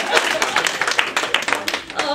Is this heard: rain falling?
no